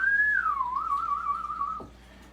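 A single person whistles one sustained note that slides down, wavers and levels off before dropping away, clear and close in a quiet room.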